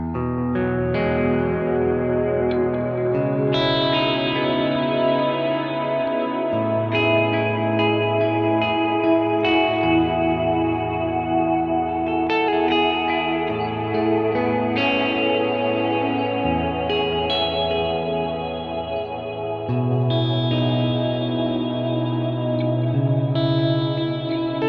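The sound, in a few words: guitar with ambient reverb and tremolo on Kemper amp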